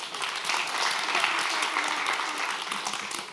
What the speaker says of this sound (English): Round of applause there.